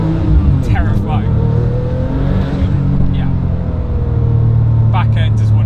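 A Porsche 997 GT2 tuned to 777 hp with a Sportec package accelerates hard, its engine giving a loud, steady, close rumble with rising tones, while someone talks over it.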